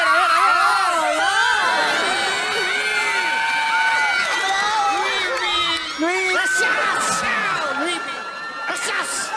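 An audience at a comedy show screams and cheers loudly and continuously, with many high shrieks from girls layered over the crowd noise, sustained for the whole stretch.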